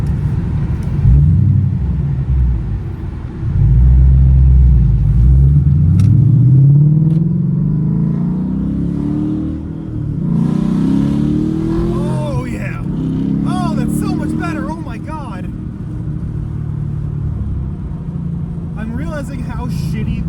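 A car nicknamed Kermit drives with its newly replaced gearbox and clutch, the engine droning steadily and rising through several accelerations, loud and close from inside the cabin, while someone talks over it throughout.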